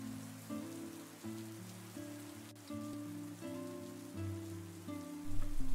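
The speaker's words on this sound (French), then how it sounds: "Le vent souffle fort aujourd'hui et la pluie tombe sans arrêt." Steady, soft rain falls at a quiet country train station on a windy morning, a continuous hiss under gentle sustained musical tones.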